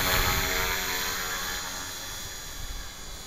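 A 450-size electric RC helicopter with a governor holds a steady rotor hum and whine in flight, an even buzzing tone that fades slightly as it moves away, with no talking over it.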